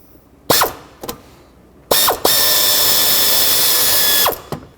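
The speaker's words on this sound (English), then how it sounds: "Drop a 10mm socket on there and then try to break it free" Ratchet with a 10mm socket breaking free a nut holding the transmission dipstick tube on a Chevrolet Express van, loud close clicks in short bursts, then a sustained whirring run of rapid ratcheting before a few final clicks.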